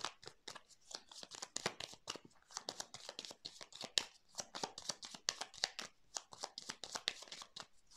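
Tarot cards are shuffled and laid out with a quick run of soft, close slaps and papery rustles in a quiet room, with no talking.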